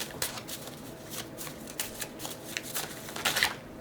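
Tarot cards being shuffled by hand in a quiet room, a run of quick riffling bursts and soft flutters close by, growing busier toward the end.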